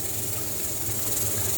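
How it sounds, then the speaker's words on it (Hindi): A pressure cooker cooking achar chicken gives off a steady, continuous hiss of escaping steam, close and constant, with no voices. "पकने के बाद अब इसको हम कुकर को बंद करेंगे"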